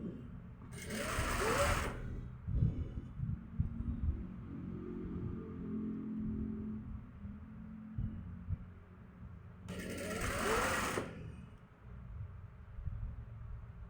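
Sewing machine stitching a round piece of fabric for a scrunchy, a low steady motor hum and throb broken by two short bursts of fast, bright needle chatter.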